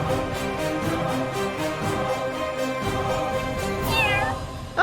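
A cat meows repeatedly over a steady droning backdrop, with a rising, wavering cry near the end, close and clear with no talking.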